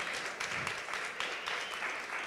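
Conference audience applause after a startup showcase presentation at a summit in Vienna, a short burst of continuous clapping at moderate distance.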